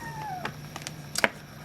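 Pet cat Watson, a house cat, meows a few times in short separate calls, fairly close and clear over a quiet room, with a soft steady hum underneath.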